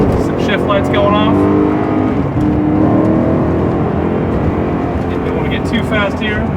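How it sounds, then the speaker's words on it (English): Engine of a 2011 BMW M3 in M mode on a test drive, holding a steady loud drone with rising and falling pitch sweeps of revving and downshifts, while someone talks over it throughout. "You can hear the engine downshift."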